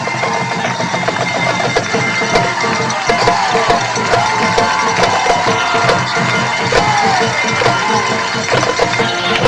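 Home crowd at a 1997 high school football game between Shenandoah and Monroe Central, making a steady, roaring wall of cheers and noise heard from the broadcast booth, continuous for several seconds.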